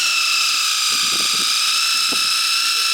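A high, steady whine of a Tigron cordless impact driver fitted with a drill bit, running continuously into hardwood, with a few low thuds and brief voices underneath.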